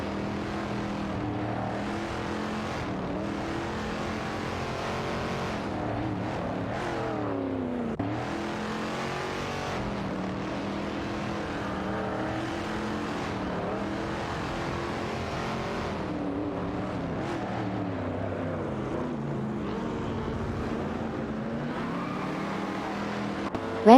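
Race cars overtake one another in an AI racing video game, their engines whining and rising and falling in pitch as they rev and accelerate, a continuous overlapping roar of several cars with no talking.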